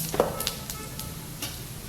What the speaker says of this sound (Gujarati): જીરું એડ કરી દેવાનું. જીરાનો વઘાર કરવાનો